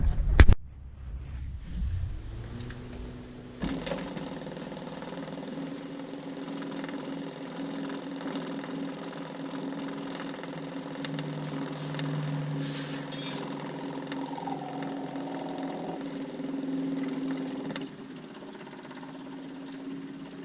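A compact Kubota BX tractor with loader starts up after a full fuel line replacement, then settles into a steady, even engine idle that holds for several seconds before dropping slightly near the end.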